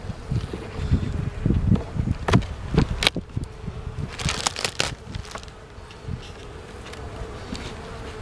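Purebred Carniolan breeder honey bees buzz loudly around an opened hive just out of winter, a dense close drone with bees passing near and some wind noise, with no speech.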